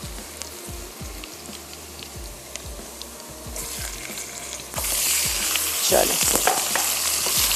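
Chicken and garlic hit hot oil and butter in a pan, a steady sizzle with scraping stirs that swells into a louder, fiercer fry partway through, while someone says a word.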